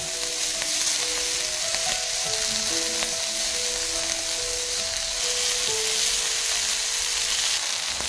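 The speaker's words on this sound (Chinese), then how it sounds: "你以为是这几片煎得特别诱人的五花肉吗？" Pork belly slices frying in a pan of hot lard, a continuous dense sizzle, close and steady for the whole stretch, with no talking.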